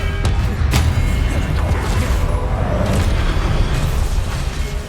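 Spells such as Expelliarmus go off in Hogwarts Legacy combat: loud, dense booms and bursts fill the scene, with sharp crackling impacts layered over a constant rumbling roar.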